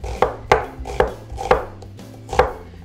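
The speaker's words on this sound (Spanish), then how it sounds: "Ahora vamos a hacer lo mismo con la cebolla y vamos a rebanar de esta forma" An onion is sliced with a knife on a cutting board: five sharp, evenly spaced thuds about half a second apart, close and crisp, with no talking.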